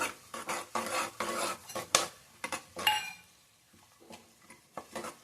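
A spoon stirs kasuri methi frying in a pan for carrot rice, making a string of close metallic scrapes and clinks in an uneven rhythm, with quieter pauses between strokes.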